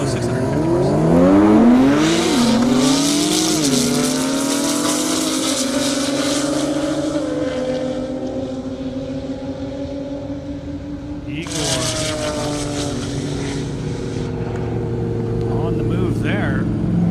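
A 1,000-horsepower Porsche Turbo S and a 650-horsepower Nissan GTR drag race on an airport runway, engines roaring loudly through rising gear changes as they pass. A second surge of revving comes later, with a commentator's voice running underneath.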